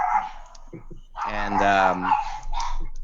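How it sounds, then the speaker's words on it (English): Several household dogs bark and yelp excitedly in loud, close bursts, with a human voice mixed in during a podcast-style conversation. "my dogs are losing their minds"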